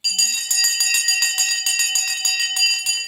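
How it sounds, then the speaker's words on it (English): A stock exchange closing bell rings in a long, steady metallic trill of rapid repeated strikes, loud and continuous for about three seconds. "The bell has now gone."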